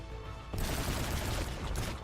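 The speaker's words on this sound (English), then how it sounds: "Oh, he's up in tower shooting." Enemy gunfire from a tower in Infinite Warfare, a dense steady crackle of shots that begins abruptly and runs without pause, moderately loud.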